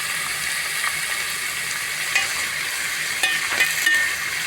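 Ingredients fry in a pan with a loud, constant sizzle up close, joined later by a few short metallic scrapes and taps from stirring.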